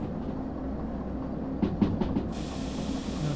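DE2 locomotive in a train simulator game running through mountain valley track, a steady low rumble and hiss with a few clanking knocks as the train brakes are applied, followed by a rising brake hiss.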